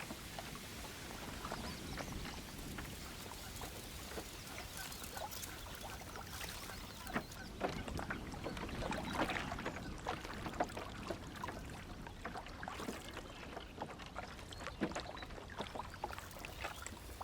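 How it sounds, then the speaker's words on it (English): A canoe drifts slowly along a reed bed on a calm, windless Dutch river, with soft water lapping and small patters and drips continuing steadily throughout, close and gentle with no voices. "Carefully, I float my canoe along the reed bed."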